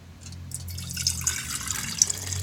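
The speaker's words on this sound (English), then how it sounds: "I'm going to pour some into our jar." Purple liquid poured into a jar for a colour-changing science experiment, a steady close trickle and splash of liquid that holds for a couple of seconds with no talk.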